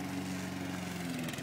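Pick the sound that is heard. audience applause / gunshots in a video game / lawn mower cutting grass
lawn mower cutting grass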